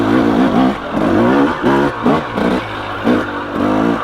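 A 2017 KTM 300 XC two-stroke dirt bike lugs uphill in second gear. The loud, close engine rises and falls in repeated pulses as the rider rolls on and off the throttle.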